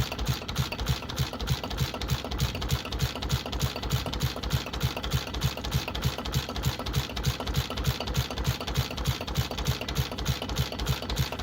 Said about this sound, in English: Designed with a single-cylinder diesel engine, it was known for its slow, rhythmic chug and remarkable pulling power despite modest horsepower.